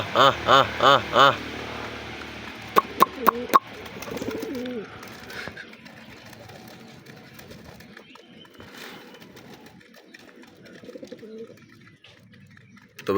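Pigeons cooing nearby, a few loud rhythmic coos at the start, then faint bird sounds and light background noise continuing under the rest.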